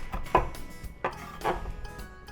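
A knife chopping rolled-up cilantro on a cutting board, three distinct close thuds spaced roughly half a second apart, with faint board noise between.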